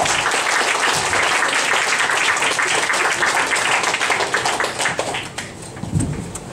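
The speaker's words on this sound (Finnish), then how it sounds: "hyvät naiset, nyt alkaa aplodit" Audience applause fills a Finnish jazz club in Turku, dense steady clapping from a crowd that carries on for about five seconds, then thins and fades toward the end.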